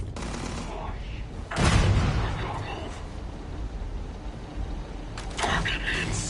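Video game gunfire: a heavy burst of shots rings out, then a steady low rumble of battle, and another cluster of shots crackles near the end.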